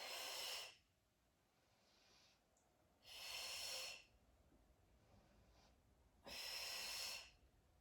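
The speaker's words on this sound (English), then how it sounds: "out through my mouth, in through my nose." Slow, controlled breathing during an easy mat Pilates workout: three loud, airy exhales through the mouth come at a steady pace, each followed by a quieter inhale through the nose, close to the microphone.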